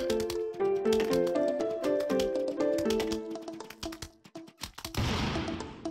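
Gatling Pea firing at a Basketball Zombie in Plants vs. Zombies, heard as a rapid run of sharp percussive pops over bright game music, ending in a burst of noisy impacts.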